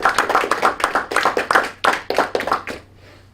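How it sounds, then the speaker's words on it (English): A small group at a school board meeting gives a short round of applause, close, uneven clapping from a few pairs of hands that fades out after about three seconds. "Give her a round of applause."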